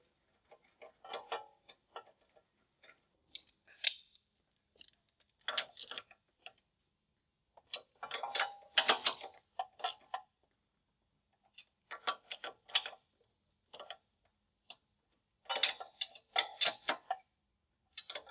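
A ratchet on an extension starts a nut onto a stud during a Subaru AVCS oil line install, producing bursts of quick, close clicking separated by short pauses.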